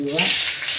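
Fenugreek seeds dropped into hot oil for a Kerala salted mango curry tempering hiss and crackle in a close, steady sizzle, with a brief voice at the very start.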